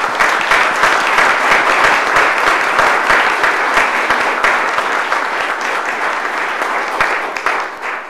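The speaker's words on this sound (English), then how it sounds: "Please join me in a round of applause." Loud, sustained audience applause at a community gathering honoring local coaches, dense clapping filling the whole stretch and tapering slightly toward the end.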